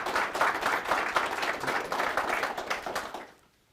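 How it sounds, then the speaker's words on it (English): Audience applause at a Citrix chapter meeting held with Google, dense steady clapping from a room of attendees lasting several seconds before fading out abruptly near the end. "Let's give them a round of applause"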